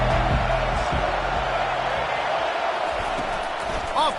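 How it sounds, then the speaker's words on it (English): A stadium crowd in Madden football roars as a broad, steady wash of cheering, loud at first and easing off, with a brief whoop near the end. "This crowd trying to make life miserable for this offense."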